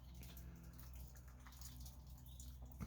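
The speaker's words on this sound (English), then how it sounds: "that's just water dripping off right now" Water drips off freshly poured concrete beams being kept wet to cure slowly in a greenhouse under construction: faint, scattered drips and trickling in a quiet space, with one slightly louder drop near the end and no voices.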